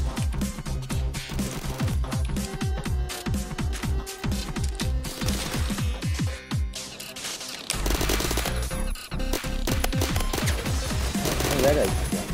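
Rapid gunfire in the online shooter Phantom Forces, bursts of automatic shots cracking loudly and almost continuously through the whole stretch, with voices talking over the shooting.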